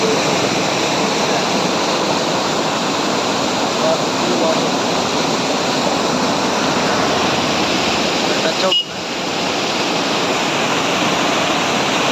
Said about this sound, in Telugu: చూడండి ఎలా వెళ్తుంది వాటర్